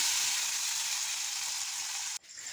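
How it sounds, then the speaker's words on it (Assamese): Chopped tomatoes hit a hot pan, giving a steady bright hiss of sizzling that cuts off abruptly near the end, leaving a quieter crackle, close and without speech. "এতিয়া মই কাটি থোৱা বিলাহীখিনি দি দিলোঁ ইয়াতে।"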